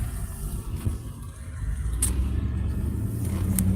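Truck driving through a town in Poland, taking a small detour around a pedestrian zone: a steady low engine rumble with road noise from inside the cab, a few faint clicks, no talk.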